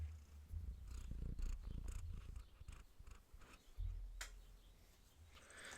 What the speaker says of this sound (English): So now I have a cat in my lap.